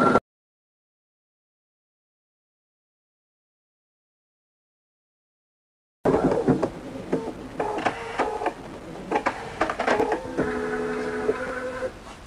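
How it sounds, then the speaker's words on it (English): Embroidery machine running Inspira cutwork needles that punch up and down through fabric, a busy mechanical clatter with rhythmic tapping and whirring that starts abruptly after a long silence and runs steadily to the end. "you can see the needles going up and down, up and down, up and down, and these cut out the fabric for you"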